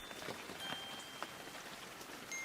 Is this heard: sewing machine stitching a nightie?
no